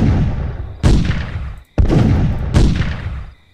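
Loud gunfire in the horror game Rake: Myth Within The Woodland, three heavy booming shots spaced about a second apart, each decaying into a long reverberant tail.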